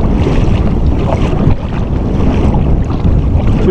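Strong wind roars and buffets continuously across a river while a boat is paddled upstream, a dense, loud rush with faint water movement underneath.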